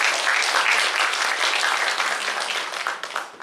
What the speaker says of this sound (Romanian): Îi aplaudăm și pe ei, chiar dacă nu sunt toți în sală.